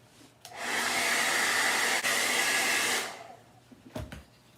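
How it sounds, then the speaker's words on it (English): A hair dryer blows steadily for about two and a half seconds to dry stenciled burlap fabric, starting and stopping abruptly, with faint handling noises afterward. "Okay, now I'm gonna blow this dry."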